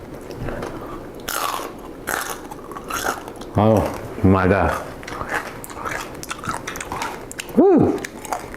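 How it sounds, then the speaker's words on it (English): Crispy air-fried pork belly crunches loudly in a few close bites followed by wet chewing, with people talking and exclaiming between mouthfuls. "Peep the crunch."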